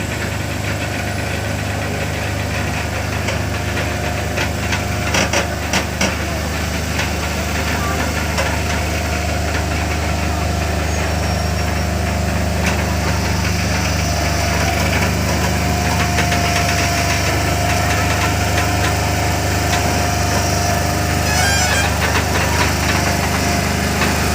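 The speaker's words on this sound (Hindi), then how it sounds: "गाड़ी में भी इंजन लगा हुआ रहता है। देखिए किस प्रकार चल रहा है" A multi-wheel heavy transport truck's engine runs continuously with a loud, rough diesel rumble and knocking vibration throughout, with no talk over it.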